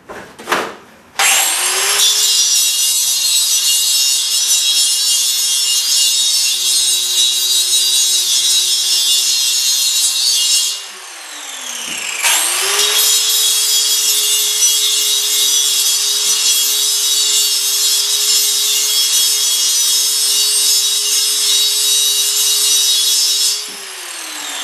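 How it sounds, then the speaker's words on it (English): An angle grinder fitted with a grinding wheel works over spot welds on a steel propane tank, a loud sustained abrasive whine that runs about ten seconds, spins down briefly, then starts up again for a second long pass, with no voices. "now I'm going to take my angle grinder with a grinding wheel on it, and I just touch these little spot welds up a little bit"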